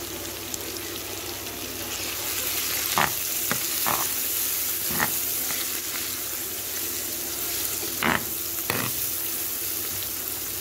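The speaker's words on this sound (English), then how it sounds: "I want to fry the spices a bit." Spices sizzle steadily in a hot pan while tuna pasta with tomato sauce is being made. A sharp scraping stir or knock against the pan cuts in every few seconds, and there is no talking.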